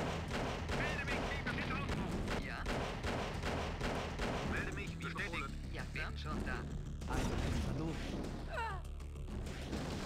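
Gunfire and artillery blasts from the real-time strategy game Command & Conquer: Red Alert, a steady rattle of repeated shots and booms running under continuous talk throughout.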